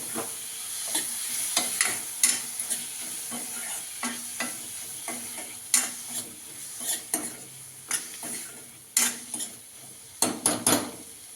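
Stirring and frying in a pan after a large tomato is added, with repeated scraping and clinking of a utensil against the pan over a steady low sizzle, close up and without talk.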